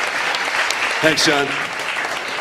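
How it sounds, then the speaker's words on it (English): Audience clapping fills a comedy tribute show, a steady, dense wash of applause throughout with someone briefly speaking over it midway. "You can clap."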